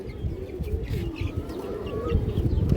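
Pigeons coo softly nearby in low repeated murmuring calls amid a flock, with faint rustling and occasional higher chirps, no talking.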